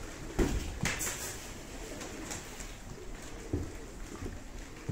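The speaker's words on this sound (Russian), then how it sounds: "Очень много голубей, Давид, около 800 штук" Pigeons in a large loft flock of about 800 birds coo faintly and steadily in the background, with a few brief louder flutters or knocks scattered through.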